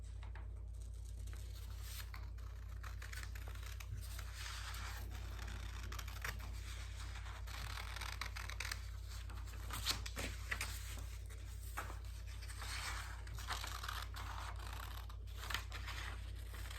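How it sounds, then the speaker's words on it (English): Quiet scissors snipping through paper in a steady series of soft cuts and scrapes, over a constant low electrical hum. "I'm going to use my scissors and I'm going to cut around the box I just made."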